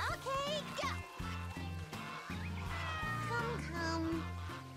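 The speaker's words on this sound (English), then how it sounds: "I'm herding the ducks using the cat." A cartoonish cat meows repeatedly while herding ducks in the video game Sakuna: Of Rice and Ruin, the high calls popping over steady in-game music.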